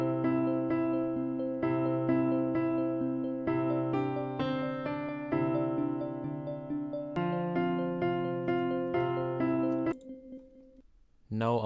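Trap arpeggio lead synth from Nexus in FL Studio, its notes cycling in steady repeated patterns with a bright plucky tone. It plays alone, then thins to a brief held tone near the end.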